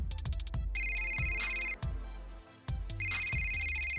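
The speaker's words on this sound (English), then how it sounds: "the infantry phone will start ringing, signaling they want to talk to the infantry standing close to the vehicle" Infantry phone ringing on an armored vehicle in Arma 3, an electronic ring repeating in bursts over music and rhythmic thumping.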